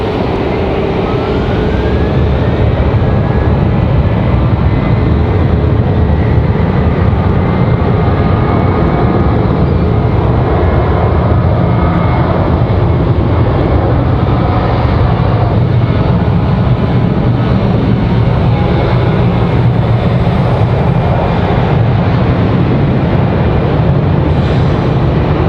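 A Southwest airliner departing Raleigh Durham airport, its engines producing a steady, loud broadband roar that holds throughout with a faint rising whine, heard alone without voices.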